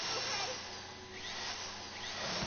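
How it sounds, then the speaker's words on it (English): Drill running in the video game GTA Online during a heist, a continuous whining, grinding drone held at a steady level throughout, with gameplay voices in the background. "How you doing with that drill?"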